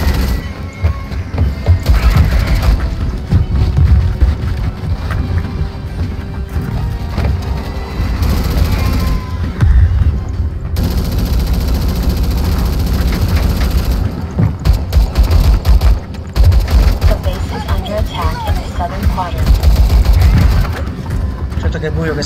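Gunfire in the video game Starship Troopers: Extermination, with rapid bursts and booming shots repeating almost constantly, loud and close, while someone talks over the action at times.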